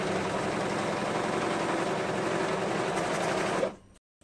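A sewing machine stitches a color blocked tunic, running in one steady, close, continuous whir for several seconds before cutting off abruptly into silence.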